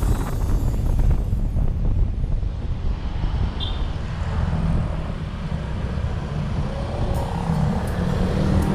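A Yamaha XMAX automatic scooter ridden on the road, with a steady engine drone under heavy wind rush and road noise, continuous and close, with no talking.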